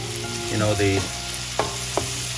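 Tomato and onion masala frying in separating oil for mutter paneer, a close steady sizzle broken by a few spoon scrapes and two sharp clinks, with faint tonal hum in the background.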